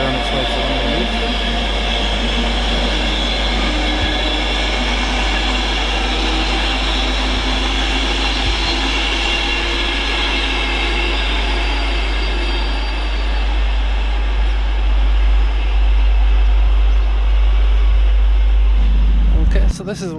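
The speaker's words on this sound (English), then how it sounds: "Passing through on its way to London Euston." Train rumbling steadily past a station at Stafford on the West Coast Main Line, bound for London Euston, with a continuous loud low roar and wheel noise that swells near the end before dropping off.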